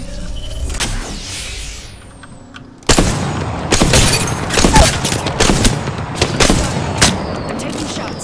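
Gunfire hitting the player in the video game Apex Legends: after a quieter stretch, loud rapid shots and impact cracks erupt in dense irregular bursts close up.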